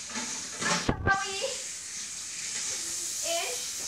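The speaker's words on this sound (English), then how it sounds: "she's just doing dishes. And so, it gets a little bit loud." Dishes being washed in a home kitchen produce a steady background hiss of running water with a brief louder splash, while a faint voice is also heard.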